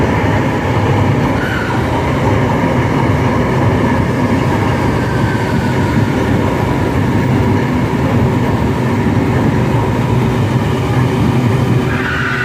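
An LRT light rail train at a station gives a loud, continuous rumble of wheels and motors from start to finish, without any talking.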